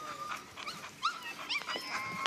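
American bully puppies playing, giving several short high yips and squeaky barks in quick bursts, fairly close, with no talking.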